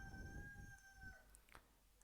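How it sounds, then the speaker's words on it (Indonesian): Rooster crowing somewhere outside, a sustained tonal call lasting over a second, faint and distant behind a quiet room, with no one speaking. "Mohon maaf ya kalau dengar suara ayam berkokok."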